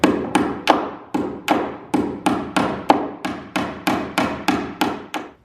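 Hammer striking wood blocking being fastened into an attic floor during a home restoration, about a dozen sharp, loud, evenly spaced blows ringing close by with no talk.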